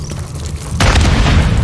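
A grenade explodes in Call of Duty Modern Warfare III, a single loud, close boom that bursts in sharply after a brief rumbling lead-in and then rolls on with a heavy, sustained low-end roar.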